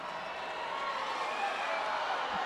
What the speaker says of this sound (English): The crowd here is going crazy.